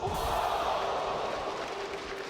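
An esports arena crowd roars and cheers after a big play in a SMITE World Championship semifinal, a loud sustained wall of cheering that slowly tapers, with faint voices mixed in.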